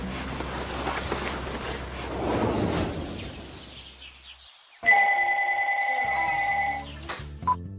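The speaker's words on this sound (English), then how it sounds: "Jen got a phone call from Bryce" A telephone rings in a family home, a steady electronic ring pattern near and clear following a stretch of muffled movement and background noise.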